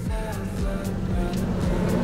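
A Suzuki Karimun Kotak engine idles with the air conditioning running, a steady low rumble with a repeating pulsing beat, close and moderately loud with no talking.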